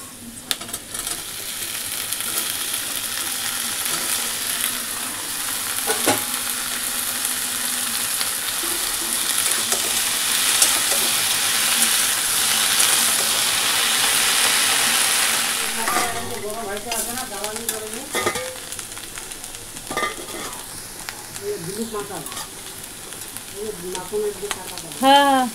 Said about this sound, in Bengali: এবারে দিয়ে দেবো ভেন্ডিগুলো।